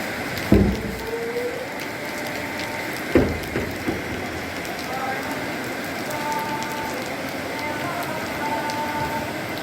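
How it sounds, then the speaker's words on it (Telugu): Steady heavy rain hiss in Nizamabad district fills the background throughout, with a couple of sharp thuds near the start and faint tonal whines drifting in and out. "ఉమ్మడి నిజామాబాద్ జిల్లా వ్యాప్తంగా కూడా భారీ వర్షం కురుస్తుంది."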